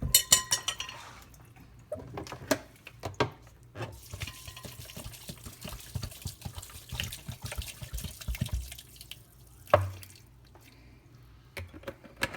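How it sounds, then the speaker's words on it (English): Purple Irish moss is rinsed under a running tap in a sink, with steady water splashing, squishing handling of the wet seaweed and occasional clinks of dishes, close and fairly quiet. "I still just rinse it out just to make sure there's nothing in the bottom"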